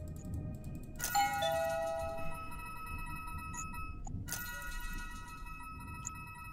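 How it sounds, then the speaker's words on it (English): A doorbell chimes twice at Halloween, each ring a bright tonal ding-dong with lingering ringing overtones, about three seconds apart, heard clearly over a low background rumble with no talking. "I'm the one that rang the doorbell."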